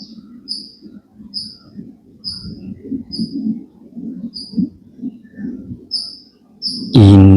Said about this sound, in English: enjoying the parrots.